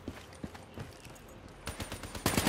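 Gunfire in the Black Ops 3 beta, a few spaced single shots at first, then a denser burst of rapid automatic fire, loud and close, with no talk.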